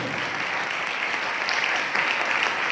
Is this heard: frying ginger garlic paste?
no